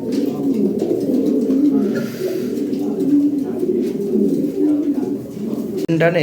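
Lahori Sirazi pigeons coo continuously in a low, throaty, rolling drone, close and fairly loud, with a short higher-pitched sound at the end.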